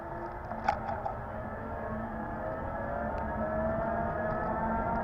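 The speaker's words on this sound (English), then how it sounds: "Acceleration is pretty nice." A Gosen Q5 e-bike hub motor accelerating on throttle alone gives a steady electric whine that climbs slowly in pitch, over continuous road and wind rush and a brief clunk early on.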